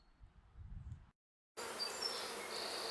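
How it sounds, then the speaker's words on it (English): Honey bees buzz around a hive in a steady, dense hum, briefly cut to silence before the buzzing returns louder and closer. "There's still a bunch of bees trying to rob that hive"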